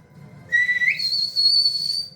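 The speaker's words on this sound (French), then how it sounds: "T'entends un sifflement dans le bois." A loud, high whistle in the woods rises in pitch, breaks briefly, then holds a steady shrill tone over a low rumbling background.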